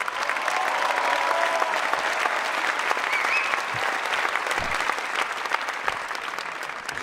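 Dense, sustained applause from a large audience at a presidential campaign rally in Paris, steady and loud for about seven seconds with only slight fading toward the end.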